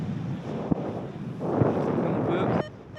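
Mountain wind on the Salève buffets the microphone in a continuous rumbling rush that swells midway, with a couple of sharp thumps, then cuts off abruptly near the end.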